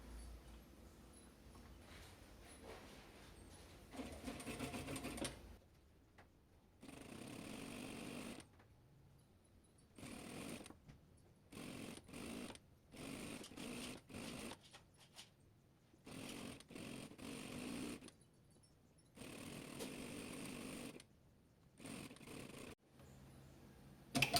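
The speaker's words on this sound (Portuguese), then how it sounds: "Você vai fazer uma costurinha aqui de fora a fora, costurinha de um pé de máquina." A sewing machine stitches a seam across cotton dish-towel fabric, running in repeated short bursts of rapid mechanical whirring and clatter separated by quiet pauses, close and moderately loud.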